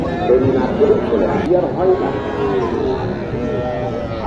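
Cattle lowing at a rural cattle market in Naogaon, with calves being sold, the calls fairly close and repeated over steady crowd chatter and talk.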